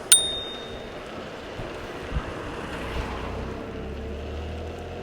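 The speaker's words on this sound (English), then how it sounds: "Nice bell in it as well." A single bright ding from the handlebar bell of a THE-URBAN xT1 electric kick scooter rings out at the start and fades quickly, leaving a low background hum.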